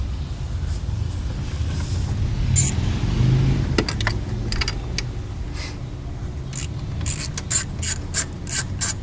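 A socket ratchet clicks rapidly in bursts as nuts come off the throttle body studs of a Chevy Impala, close and crisp, with brief metallic clinks of the tool and parts between the runs of clicking.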